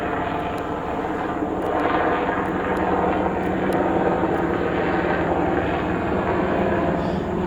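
Aircraft droning overhead, American military drones and a Little Bird special operations helicopter above Culiacán, a steady broadband engine hum filling the whole stretch with no breaks, moderately loud and continuous.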